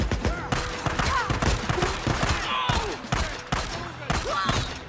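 Dense, rapid gunfire in the video game Days Gone, with repeated bursts of close, loud shots and echoing cracks filling the whole stretch as a near-continuous fusillade.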